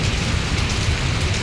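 Heavy rain pours steadily and loudly, a dense even hiss with a low rumbling undertone, as someone is caught out in a downpour on the way home from church.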